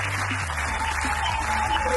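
Audience applause for a contestant at a developer competition final, steady and dense across the whole stretch, with a low steady hum beneath and faint voices mixed in.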